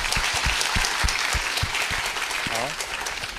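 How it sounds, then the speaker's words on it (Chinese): An audience at a Taiwanese explorers' forum claps warmly and continuously to welcome a director, dense steady applause with a brief voice heard near the end. "我们大家先用热烈掌声欢迎齐柏林齐导演"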